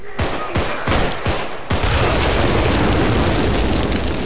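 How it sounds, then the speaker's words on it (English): Grenade explosions in the co-op zombie game Contagion: four sharp, loud bangs in quick succession, then a sustained, roaring blast and rumble that fills the rest of the moment. "I'll use the grenade and then I'll have space."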